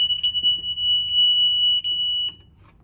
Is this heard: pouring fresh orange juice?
no